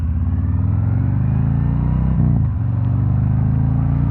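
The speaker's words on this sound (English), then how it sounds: "this thing sounds good. This is your typical touring motorcycle." A Harley-Davidson Road King Special touring motorcycle engine idling with a deep, steady rumble, briefly blipped to a quick rev midway before settling back.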